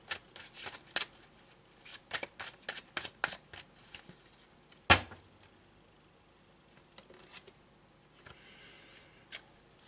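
Tarot cards are shuffled by hand, a series of quick riffling snaps and flicks in bursts, close and crisp, then a sharp slap of a card and quieter handling, with no talk.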